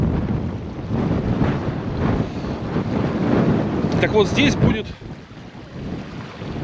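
Strong, gusting cold wind buffets the microphone on the Taman coast, a loud, steady roar with surges throughout while someone talks over it.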